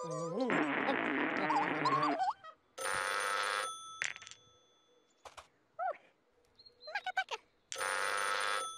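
A toy telephone on a Swedish children's TV show rings in loud bursts separated by gaps, with chirpy electronic tones and buzzy insect-like sounds between them and no talk.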